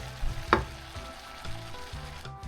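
Spring onions and tiger prawns sizzle in garlic butter while being stirred, a steady close frying hiss broken by a sharp scrape of the utensil near the half-second mark and softer stirring knocks after.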